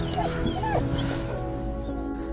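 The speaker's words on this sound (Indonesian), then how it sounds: "Dia terus menggonggong untuk memberi syarat agar mereka mau mengikutinya." A dog in a film barks and whimpers in short yips, close and fairly loud, over a busy soundtrack with music and background noise throughout.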